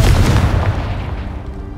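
A Confringo spell explosion in the video game Hogwarts Legacy lands as a single loud, close boom that decays into a rumbling tail.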